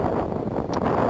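Strong wind buffeting the microphone on a beach with rough water, a continuous loud rushing roar with no one speaking.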